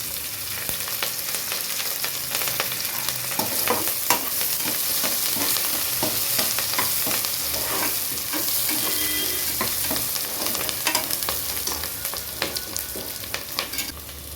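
Curry leaves sizzling and crackling in hot oil while being stirred in a pan, for a brinjal and potato tamarind kulambu; a steady close, dense frying hiss with scraping stir strokes throughout and no talking.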